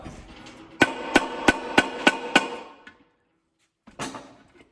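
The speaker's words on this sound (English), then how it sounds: "you typically want to use a soft blow hammer" Six sharp, evenly spaced soft blow hammer taps knocking a part loose during a Getrag 420G gearbox teardown ring out in quick succession, then a pause and one more solid knock; close and loud, no talking.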